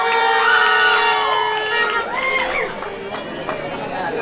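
An outdoor crowd at a 2019 Quetzaltepeque singing contest stage cheers and shouts with whoops and excited voices, loud and close, with little distinct clapping standing out from the cheering.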